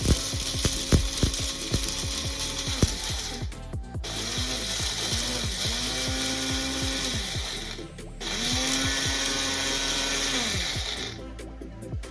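An electric mixer grinder runs in three long bursts with short pauses between, whirring and rattling loudly as it grinds fennel, pepper and other spices for pepper chicken.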